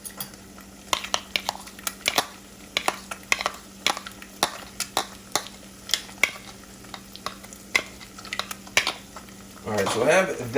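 Onion and garlic fry for bacon fried rice in a pan, a soft sizzle under repeated sharp clinks and scrapes of a utensil stirring, ending in a louder burst of frying.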